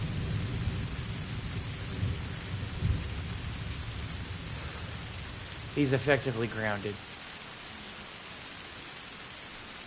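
Continuous rain hiss with low rumbling thunder in the first half of Arma Reforger gameplay, and someone briefly speaking over the storm.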